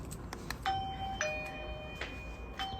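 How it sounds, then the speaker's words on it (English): Video doorbell chime ringing indoors, a clear two-tone ding-dong with sustained bell-like tones at moderate volume over light room noise, with no talking. "Let's check when the doorbell rings."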